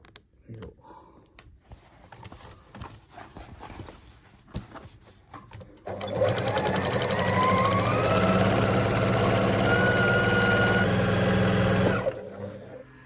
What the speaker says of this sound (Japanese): 同じところを縫わないように、少しずつずらして縫ってるんですけども